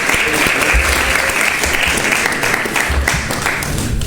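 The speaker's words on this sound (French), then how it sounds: "Je vous demande d'applaudir Fama Diabaté qui va occuper le balafon." Studio audience at a live midday talk show applauds steadily for several seconds, a dense, loud wash of clapping introducing a balafon player.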